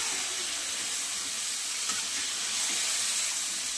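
Marinated chicken sizzling steadily as it is fried in a pan for chicken chaap, a constant bright hiss with no talking, holding even throughout with a faint clink near the middle.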